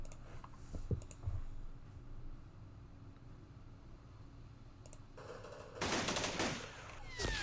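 Gunfire crackles in the wargame Campaign Series Vietnam: a few faint sharp clicks early on, then a loud dense burst of rapid shots near the end, with no talking.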